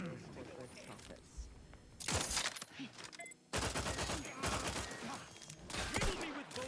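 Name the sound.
gunfire in video game The Outer Worlds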